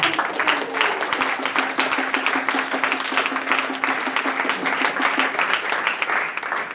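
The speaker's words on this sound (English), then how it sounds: "Let's give them a warm round of applause" A crowd at a startup weekend closing ceremony in Geneva gives the jury a warm round of applause, loud, dense clapping sustained for several seconds with a faint voice or tone lingering underneath.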